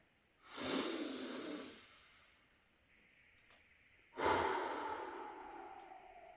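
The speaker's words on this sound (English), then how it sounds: "now actually take an even deeper breath." Two slow, deep breaths drawn in and released during a guided breathing exercise, each a long airy swell lasting over a second, close and soft with a quiet pause between them.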